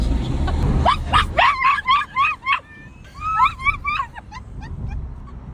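A dog barks and yips in a quick run of high, sharp calls close by, breaking into a second burst after a short pause, with low background rumble throughout.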